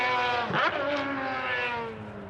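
A Ferrari FXX race car at a time attack challenge event at Yokohama screams past on track, its loud, harmonic-rich engine note sweeping up and down through a gear change, then holding a sustained high whine.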